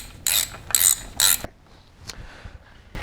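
Bolts being run down on the cam plate of a Harley-Davidson M-8 engine with an S&S 128 kit, three quick bursts of ratchet clicking close by, then a few faint metallic taps and clinks.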